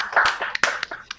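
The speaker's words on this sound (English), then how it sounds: "Give him a round of applause, Jeff Mauro, everybody." Sparse clapping from a small comedy-show audience, a handful of uneven hand claps in quick succession, close and fairly loud, with no talking over it.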